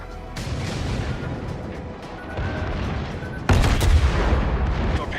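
Cruiser guns of the USS Cleveland fire high-explosive shells in World of Warships: a dense, rumbling barrage of rapid gunfire runs throughout, then a heavier, louder salvo lands sharply partway through and keeps booming.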